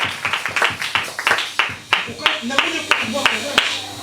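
A church congregation at a thanksgiving service clapping in acclaim, a fast rhythmic run of sharp hand claps close by, with voices mixed in beneath.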